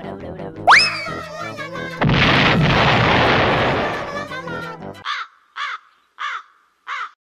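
In the castle-siege building game Besiege, a bomb strikes a thick fortress wall: a rising whistle, then one loud, broad blast decaying over two seconds. Four short, evenly spaced cawing calls follow.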